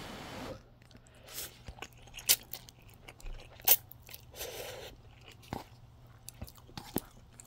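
Someone chews Samyang Buldak spicy chicken ramen up close, making soft wet chewing with a few sharp crunchy bites scattered among quiet pauses.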